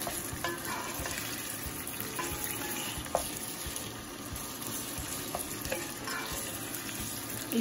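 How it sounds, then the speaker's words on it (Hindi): About 700 grams of minced meat frying for khara masala qeema, a steady hissing sizzle with a few soft stirring knocks and scrapes, moderately quiet, no talk. "कीमे को हम अच्छा सा भूनेंगे इसमें"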